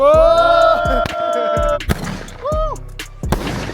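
Wedding firecrackers burst nearby in a series of loud, sharp bangs spaced irregularly, with tonal whistling and voices mixed in between the blasts.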